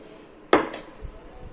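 A spoon stirring powdered sugar into mango shrikhand in a bowl gives one sharp clink followed by a couple of fainter scrapes and taps, close by and brief.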